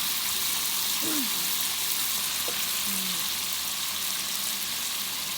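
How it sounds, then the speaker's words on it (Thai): Fish coated in ground turmeric frying in hot oil, giving a steady, even sizzle throughout with a couple of faint clinks, and no one talking over it. "ปลาทอดใส่ขมิ้นนั่นทุกคนขมิ้นผงนะ"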